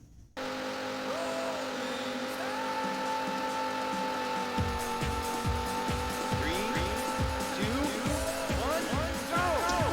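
Race cars in Daytona USA on the Sega Saturn roar loudly with sustained engine drone, then a rapid series of tire squeals and skids as the cars corner hard.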